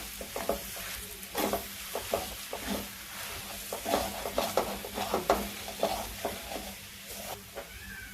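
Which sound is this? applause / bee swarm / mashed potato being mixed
mashed potato being mixed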